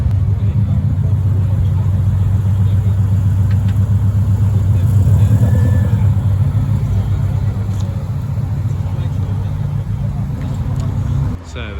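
Japanese classic cars roll slowly into a line-up at a car day, giving a steady low engine rumble close by that swells and settles, with a voice talking over it.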